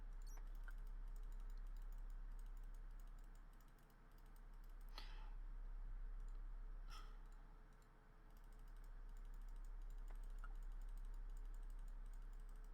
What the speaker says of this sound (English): Lots of clicking.